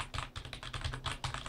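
Rapid typing on a Cooler Master Devastator keyboard, part of a keyboard and mouse set, with a steady run of close, crisp key clicks and no voices.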